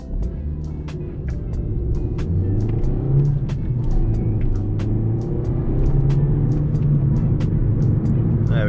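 An Audi A3 S-line car drives along a road, heard as a steady, close engine and road hum from inside the cabin, with faint regular ticking throughout.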